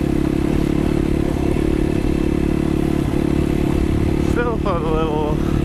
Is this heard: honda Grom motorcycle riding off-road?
yes